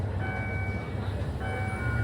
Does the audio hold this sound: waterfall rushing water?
no